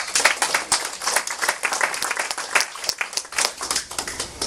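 Audience applause at a presentation fills the room with dense, steady clapping from many hands, close and continuous for several seconds with no voices.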